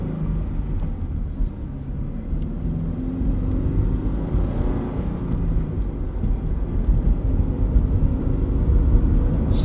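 A Subaru BRZ/GR86 fitted with a Pedal Commander throttle controller drives through town in city mode, giving a steady, fairly loud low engine and road rumble from inside the cabin, unbroken throughout.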